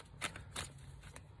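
Tarot cards being shuffled by hand, several quick papery riffles in short bursts, close and fairly quiet.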